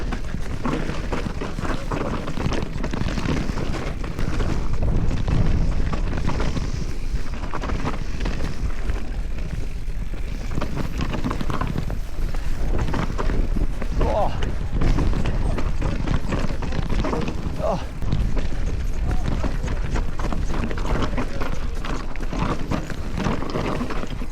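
Constant heavy wind buffets the microphone on an e-bike ride, a loud low rumble with continuous roaring turbulence and no pauses.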